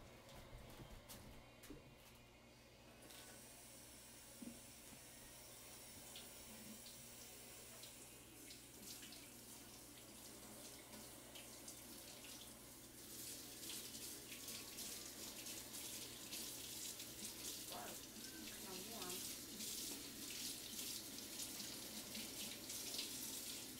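A bathroom tap runs steadily while a face mask is rinsed off, a soft, continuous hiss of water into a sink that grows a little brighter and splashier toward the end, with no talking.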